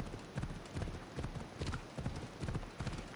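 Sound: horse hooves galloping in a video game

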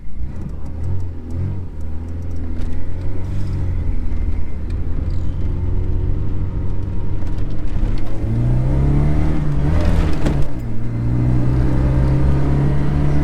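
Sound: Tofaş Doğan car engine revving

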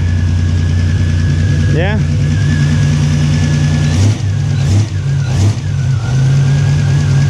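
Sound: Pontiac GTO engine idling and revving after exhaust manifold repair

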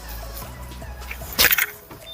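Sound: car being locked

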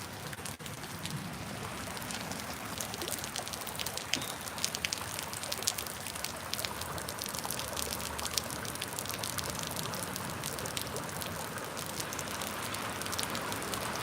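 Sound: cocoa (hot chocolate) pouring

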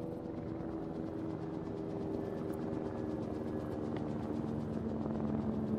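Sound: helicopter in a video game

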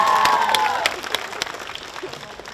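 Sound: applause for the parents at graduation ceremony

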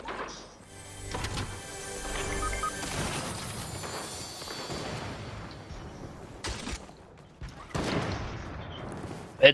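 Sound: gunfire in Fortnite video game

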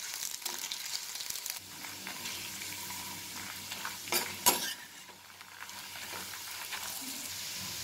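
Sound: ginger and tamarind frying in oil for pickle

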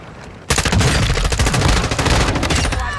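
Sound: Semtex grenade and gunfire in a video game

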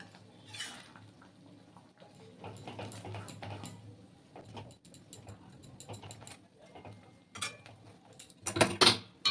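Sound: ladle stirring mung dal in a pot

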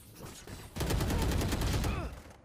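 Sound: gunshots in Valorant, from a video game

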